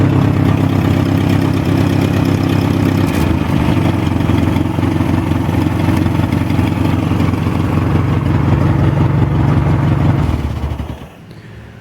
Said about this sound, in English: from the sounds of it, we ended up with a good engine